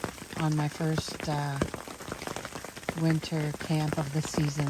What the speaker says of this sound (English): enjoying the sound of the rain hitting the tent